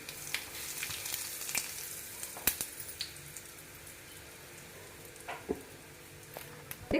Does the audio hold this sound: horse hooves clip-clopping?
no